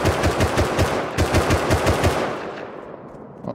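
Rapid bursts of automatic gunfire aimed at a bear in the survival video game Rust, loud and close, with a quick string of shots before the final echo trails away.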